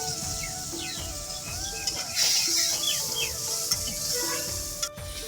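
Spice paste with salt is stirred and fried in a pan for a fish and arum root curry: a steady soft sizzle with scraping strokes, faint birdsong in the background.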